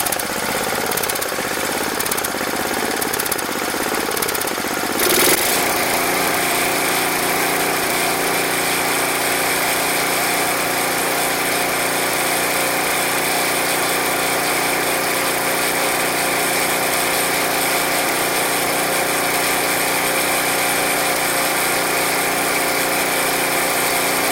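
A small engine on a snow blower that was found free in the garbage idles steadily, a loud, continuous chugging drone. After a few seconds of rougher noise it settles into an even running sound that carries on to the end without talk.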